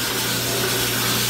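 Bandsaw running continuously while cutting 2.5-inch wood stock, a steady, loud, dense sawing and rubbing roar with a low motor hum, with no speech over it.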